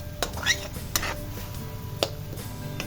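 Chilli, a bay leaf and spice paste fry in a wok for a broccoli dish, a soft steady sizzle under occasional sharp clinks and scrapes of a spoon stirring against the metal pan, close and fairly quiet.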